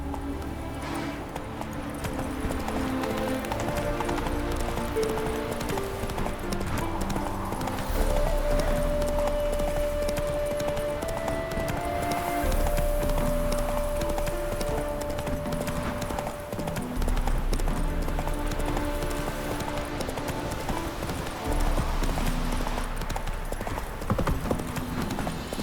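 Roach, Geralt's horse in The Witcher 3, galloping with steady rhythmic hoofbeats that continue throughout, accompanied by a sustained musical score and occasional snorts.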